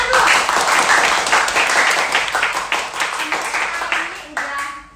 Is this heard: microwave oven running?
no